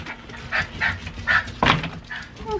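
Dogs wanting to come inside a farmhouse bark and whine in a series of short, separate yelps, moderately close, with quiet room noise between them.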